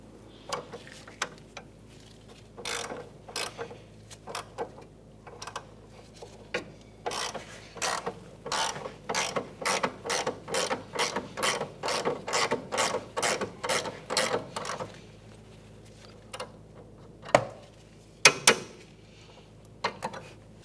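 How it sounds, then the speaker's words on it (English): A ratchet with an 18mm socket tightens a front sway bar link bolt on a 2011–2016 Hyundai Elantra: about twenty crisp, evenly spaced metallic clicks in a steady run, near and moderately loud, after a few scattered clicks. "with an 18mm socket, we're going to tighten this down"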